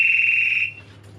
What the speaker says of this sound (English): his mate's also activated his alarm